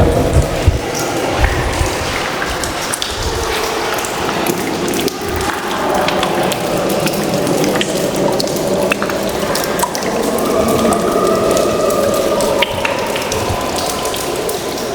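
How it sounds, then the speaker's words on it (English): Water drips and trickles inside a hand-dug tunnel cut through mountain rock, with a wet floor; a steady watery patter with irregular drops runs close by throughout, no voices. "you can hear the drips of water"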